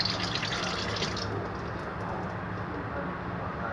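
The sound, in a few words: water being poured out of a small pot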